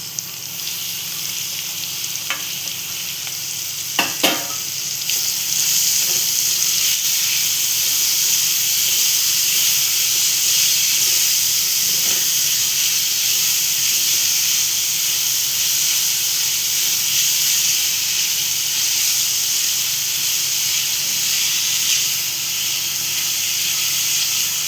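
Ingredients for Maharashtrian thecha hit a hot pan and sizzle, a steady loud frying hiss that holds evenly after a couple of sharp clatters near the start.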